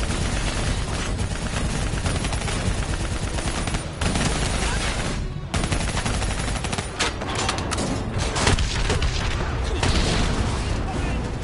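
Sustained automatic gunfire in the video game Black Ops 3, aimed at a VTOL aircraft, rattles loudly and almost without pause, with booming impacts and short breaks, as battle noise fills the scene.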